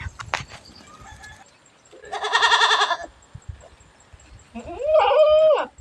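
Goats bleat while being led out to graze: a few loud, wavering calls with pauses between them, plus scattered rustling and footsteps.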